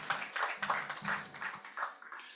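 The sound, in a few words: audience applause at an annual general meeting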